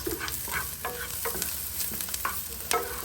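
Onions caramelizing in a frying pan crackle and sizzle up close while a utensil stirs them, giving irregular scraping strokes over the frying hiss and no speech.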